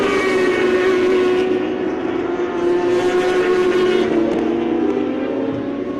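Tire Mart Kawasaki racing motorcycle at a national extreme festival race, its engine screaming loud and close at high revs with a steady harmonic whine that dips slightly as it passes.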